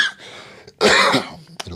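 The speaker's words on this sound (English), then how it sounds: "So sorry about the coughing." A single person coughs harshly, one short burst followed by a longer, louder rasping cough with throat clearing, close and alone without speech.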